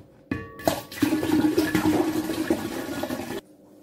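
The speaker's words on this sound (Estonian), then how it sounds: "Lisame vett juurde." Water is poured into a container of salty water with eggs in a home science experiment, a steady continuous splashing pour lasting about three seconds, close and fairly loud with no talk over it.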